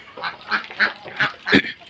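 Farm ducks quacking in a run of five or six loud nasal calls, close by, one after another with short gaps.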